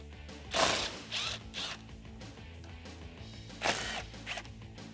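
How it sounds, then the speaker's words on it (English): Ratchet clicking as a T40 Torx bit backs out the side windshield bolts on a 2-door-style Jeep Wrangler JK 4-door, with short bursts of close, loud pawl ratcheting separated by quieter pauses. "we're going to remove the 4 bolts holding the side of the windshield in using a T40 Torx"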